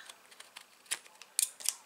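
Crisp scissor snips cut through cardmaking paper, a few light clicks followed by sharper, louder snips near the end, close up in a quiet room.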